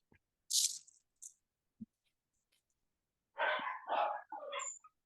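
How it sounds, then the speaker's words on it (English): A dog barking outside after being let out: a few sharp, separated barks and snorts, then a louder cluster of three or four yips near the end, fairly faint and distant with no talking. "Oh, I can hear you, dog."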